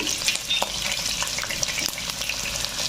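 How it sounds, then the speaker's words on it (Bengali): Onions, ginger and garlic fry in hot oil with a dense, continuous crackling sizzle and scattered pops close by, and no voices. "তেল গরম হয়ে গেছে পেঁয়াজগুলো দিয়ে দিলাম আদা রসুন"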